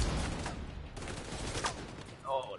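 An elite enemy in The Division 2 fires bursts of gunfire, rapid sharp shots mixed with game noise while a player's voice speaks briefly over the shooting.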